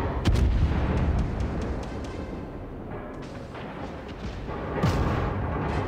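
Repeated heavy booms of naval artillery gunfire in World of Warships, several shots spaced irregularly over a rumbling background.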